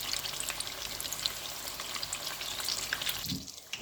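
Battered eggplant fritters fry in hot oil with a dense, steady crackling sizzle throughout, close and even, easing slightly toward the end, with no talking.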